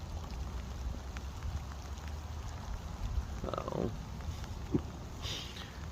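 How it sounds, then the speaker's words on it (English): Rain pattering steadily onto still water at a winter fishing lake, a soft continuous hiss throughout with a few brief louder splashes and rustles near by. "I don't want the rain."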